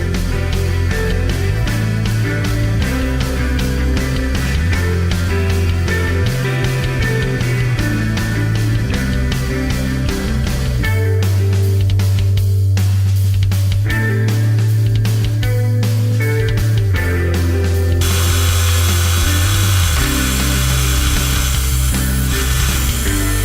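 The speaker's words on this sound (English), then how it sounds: "that's the skew, to give this a bit of a finishing cut" Wood lathe turning a wooden carver's mallet while a skew chisel takes a finishing cut: steady low motor hum with a scraping, rubbing cut, loud and continuous, no talk.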